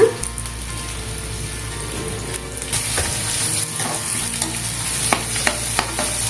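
Slit green chilies going into a frying pan for an egg and dried prawn curry, with a continuous close sizzle and scattered stirring clicks and scrapes, growing brighter after a few seconds, no voices.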